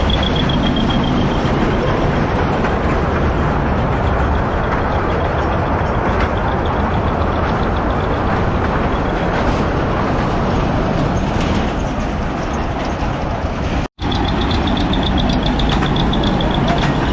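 A steady, loud mechanical rumble of a small toy train ride running continuously, with engine drone and rattling throughout and a brief dropout near the end.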